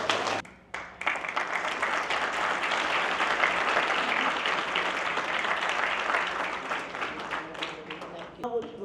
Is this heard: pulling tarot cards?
no